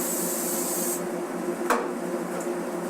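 Cooking spray hisses steadily onto an egg grill, a continuous close spray lasting about a second before stopping, followed by a brief clatter.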